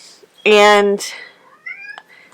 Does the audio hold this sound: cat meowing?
yes